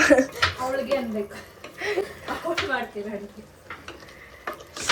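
Mushrooms fry in a pan with soft sizzling and stirring, marked by scraping and clinks of a utensil against the pan, while people talk over it.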